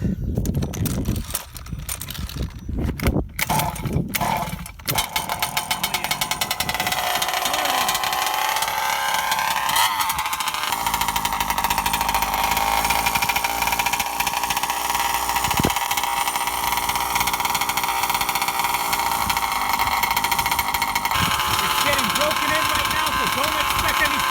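Kraken Vekta 5 petrol engine on a 1/5-scale RC car, fitted with a Victory tuned pipe and being broken in, sputters through a few rough starting bursts then settles into a loud, steady high-revving buzz close by.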